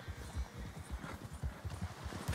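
Hoofbeats of a galloping horse in Red Dead Redemption 2, a fast, rhythmic clip-clop that stays fairly quiet and close, with no talk over it.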